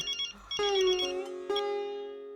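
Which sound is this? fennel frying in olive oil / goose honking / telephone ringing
telephone ringing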